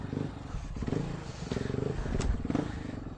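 A dirt bike engine runs nearby on a ride to hot springs. It makes a low, pulsing putter with quick rhythmic firing beats and light clatter. The sound is fairly quiet and steady throughout.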